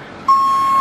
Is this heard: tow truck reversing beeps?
yes